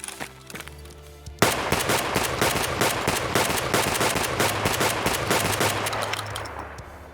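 Rapid gunfire in the video game Escape From Tarkov comes as a dense, loud, continuous burst of shots that starts abruptly and rattles on for several seconds.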